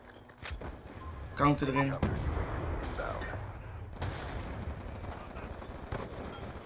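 Nuketown video game gunfire with bursts of rapid automatic shots and single cracks, loud and close, while someone talks over the game sounds.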